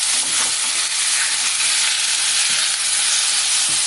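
Pork rib fat fries in a pan with a loud, even hiss and sizzle, steady and close from start to finish, with no talk.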